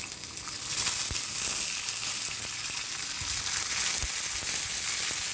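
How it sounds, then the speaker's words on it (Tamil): Fennel seeds and curry leaves fry in hot oil for a simple suvarotti dish, giving a steady bright sizzle with a few soft pops and crackles throughout, close and fairly loud. "கொஞ்சோண்டு சோம்பு போடுறேன். பொரியட்டும். கருவேப்பிலை போடுவோம்."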